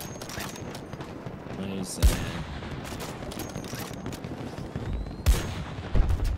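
Gunfire rattles through a Battlefield 2042 match in steady bursts, with a few heavier sharp shots standing out, all under a player's voice talking.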